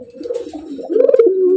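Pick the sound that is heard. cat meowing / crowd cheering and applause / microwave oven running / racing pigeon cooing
racing pigeon cooing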